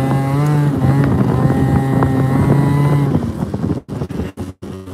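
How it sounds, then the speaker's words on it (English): A moped ridden on the road, its small engine droning loud and steady up close with wind buffeting the microphone, then breaking into choppy gusts and dropouts near the end. "on a moped going to the ATM machine"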